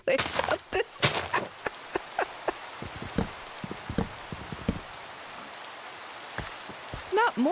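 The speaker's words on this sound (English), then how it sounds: "Not more rain." Rain falling in the video game Minecraft, a steady hiss of rainfall under scattered clicks and brief bursts of other game sounds, with no voices.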